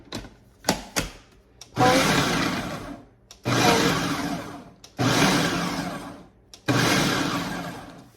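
A blender pulses walnuts into a crumbly walnut meat, four loud whirring bursts of a second or so each separated by short pauses, with clicks and knocks from the lid and jar in between.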